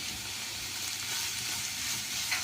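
Chicken samosa filling with chopped green chillies lightly frying in a pan, a continuous close hiss of sizzling with soft stirring underneath and no voices.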